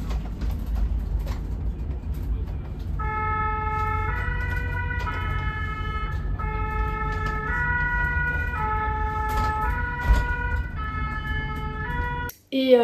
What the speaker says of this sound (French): il y a les sirènes et tout, toi, comme dans les films